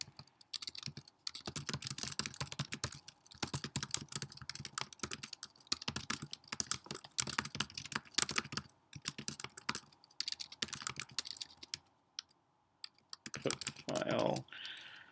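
Code being typed on a computer keyboard in close, dense bursts of key clicks with short pauses between them, no talking over it.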